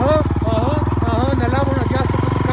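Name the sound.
CRF450 motorcycle riding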